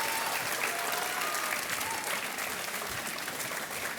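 A studio audience on the set of KBC, the Hindi TV quiz show, claps in sustained, dense applause that fills the room evenly from start to end.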